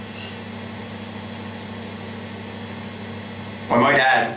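A Mühle R41 open comb safety razor with a new Feather blade drags through a heavy beard. It gives a faint rasping scrape over a low electrical hum, then a loud, close burst of scraping near the end.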